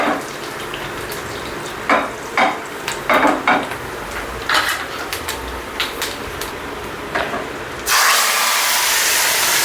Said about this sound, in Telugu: రసం తాలింపు అయిపోయింది.